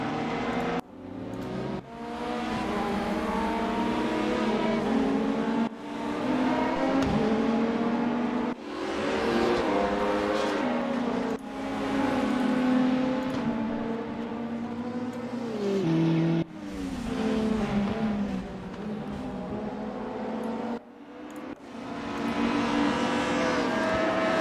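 Race car engines in the RaceRoom Racing Experience sim, loud continuous engine drone with repeated rising revs and sharp gear-shift cuts through a lap, close and sustained with no talking.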